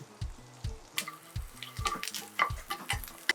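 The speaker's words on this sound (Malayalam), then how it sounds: "ഇതിലേക്ക് നമുക്ക് പച്ചമുളക് ഇട്ട് കൊടുക്കാം. ഇതിൽ ലേശം കറിവേപ്പിലയും കൂടി ആഡ് ചെയ്യാം." Green chilies and curry leaves going into hot oil in a frying pan, with close crackling sizzles and a series of sharp pops and spoon scrapes in an uneven rhythm, loud and alone.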